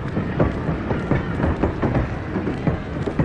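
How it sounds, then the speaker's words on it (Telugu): A train pulling away from a station, a low continuous rumble with rhythmic clattering of wheels on rails, fairly loud and steady with no talk. "అదిగో ట్రైన్ బయలుదేరుతుంది."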